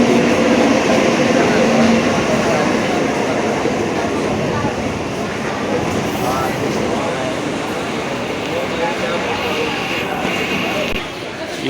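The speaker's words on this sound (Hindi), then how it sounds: "ये देखिए ट्रेन आ रही है, थाने के लिए ट्रेन है" A Mumbai local train on the CST to Thane line pulls into a station platform, its steady broadband rumble and rail clatter filling the scene at close range, with a crowd murmuring and people talking over the noise throughout.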